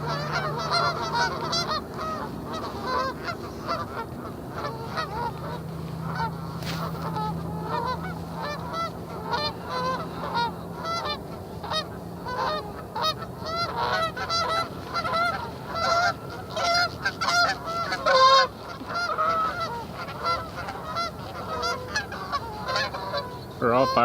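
A flock of geese keeps up agitated honking on a fishing morning at the water, with dense overlapping calls that rise and fall in volume and occasional louder outbursts near the microphone.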